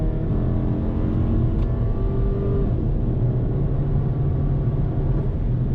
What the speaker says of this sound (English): So I'm gonna floor it right now.